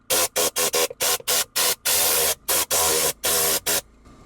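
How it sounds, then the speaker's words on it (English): A Tornador air cleaning tool blows compressed air in rapid short hissing bursts, then longer sustained blasts, loud and close, used to dry leftover cleaner while detailing a car. "Dry up the rest with the air tool"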